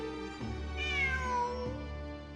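A cat meows in Genshin Impact, one drawn-out, rising-then-falling meow heard clearly and alone over a steady low game ambience.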